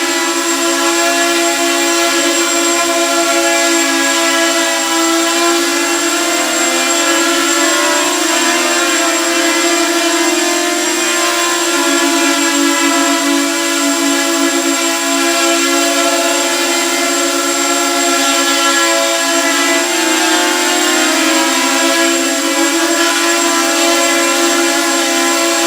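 An Eachine EC250 3S quadcopter drone flies with its motors at full throttle, making a loud, steady, high-pitched whine with harmonic buzz that holds constant throughout, with no talking.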